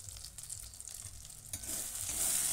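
Chicken curry masala with sugar and tomato paste being stirred in a pan, a steady close sizzle with scraping that grows louder and brighter toward the end.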